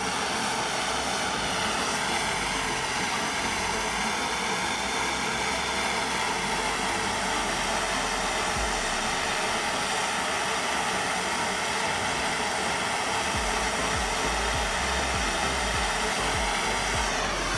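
A heat gun blows steadily on a bolt for a Kawasaki Ninja 250R motorcycle, a loud, constant roaring hiss of hot air close by that runs unbroken throughout.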